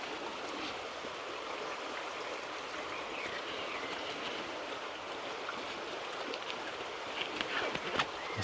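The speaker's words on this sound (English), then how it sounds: "It's nice to hear the sound of the river" A river meanders gently along a valley floor in rural Wales, giving a steady, even broadband wash of flowing water that runs unbroken throughout, with a few slightly louder splashes near the end.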